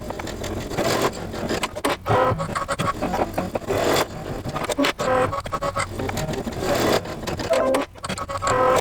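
Embroidery machine stitching alignment lines on fabric, a loud rapid mechanical chatter in bursts with brief pauses and repositioning clunks between runs.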